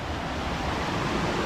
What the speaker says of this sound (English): Here's the Woonasquatucket River.